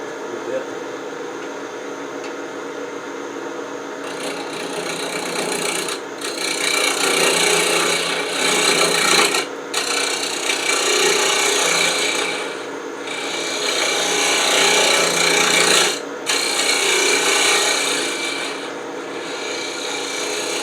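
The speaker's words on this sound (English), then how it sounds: "I'm thinking a negative rake scraper may be the easiest way to deal with that." A negative rake scraper cuts a wooden box turning on a lathe, giving a steady, loud rasping scrape that swells and breaks off briefly several times as the tool lifts and returns to the spinning wood.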